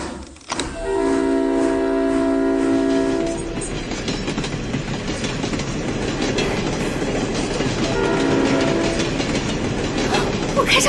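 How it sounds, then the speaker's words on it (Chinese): A steam train starts up with a loud, sustained horn blast, then runs with a steady rumbling clatter, and a second horn sounds near the end; no one speaks. "我真的开上火车了！"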